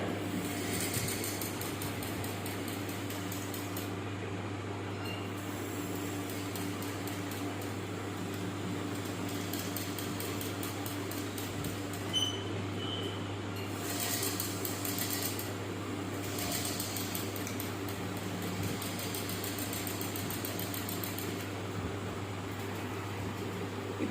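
A normal domestic tailoring machine runs steadily while stitching fabric for aari-style embroidery work, making a continuous close mechanical hum with a faint whirr that holds at an even level throughout, with no talking.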